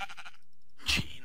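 A Minecraft sheep gives a short wavering bleat, close and clear, followed by a brief soft thump.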